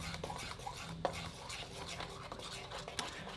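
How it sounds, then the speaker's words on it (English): Dough batter with yeast being mixed by hand, a steady stir with scraping and soft clinks of utensil against bowl, close and continuous with no voices. "We can add the yeast now, and we continue mixing."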